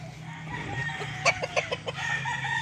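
A gamefowl rooster crows in short bursts at mid distance amid steady low farm hum, with a few clucking notes around it.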